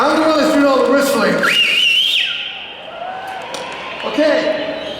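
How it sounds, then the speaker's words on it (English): A loud, shrill whistle rises and holds over the cheering noise of a crowd, then fades into murmuring before another brief swell. "I'm the one that's doing all the whistling."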